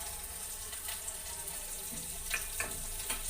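Onions frying in a pan for sambar, a soft continuous sizzle with a few light taps and stirring clicks near the end, fairly quiet and without talk.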